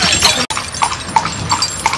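Horse hooves clip-clop in a steady rhythm of sharp, close knocks, several hoofbeats over a couple of seconds, during a trip between Luxor and Aswan in Egypt.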